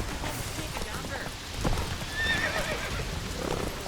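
Horse hooves clip-clopping at a gallop with a sharp neigh in The Witcher 3 video game, a mid-level rhythmic beat under shouted game dialogue.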